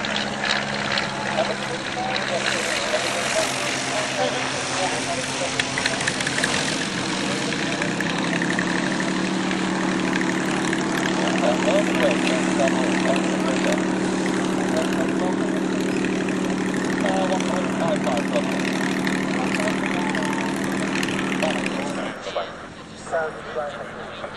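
A steady droning propeller engine hums throughout, rising and holding as a small plane makes a sedate flyby overhead at a flying festival, with someone talking over it before it fades.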